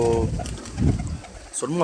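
Pigeons, plain and crested, coo softly nearby after heavy rain during a cyclone. The cooing runs under and around a person talking over a rumbling outdoor background.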